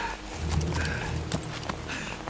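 Horse hooves clip-clopping in a steady run within Metal Gear Solid 3, with low rumbling game ambience behind the close, rhythmic footfalls.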